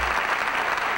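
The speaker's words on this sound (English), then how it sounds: "Applause from a packed theater" Steady, dense applause from a packed theater crowd, a continuous wash of many hands clapping at moderate loudness with no break.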